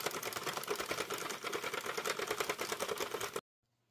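A circular knitting machine clatters steadily as it knits rounds of yarn at loose tension, a rapid, even mechanical ticking heard close and alone, stopping abruptly at the end.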